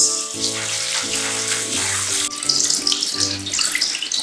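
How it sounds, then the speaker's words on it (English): Peanuts and dried anchovies are swished and rinsed in a bowl of water, giving a steady watery sloshing and trickling with a faint sizzle-like hiss, close and continuous, with no talking. "I'm just going to wash around like this amount of nuts and this amount of dried anchovies."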